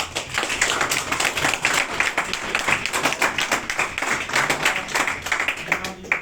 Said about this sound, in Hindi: इसके एक बार फिर से बच्चों जोर से तालियां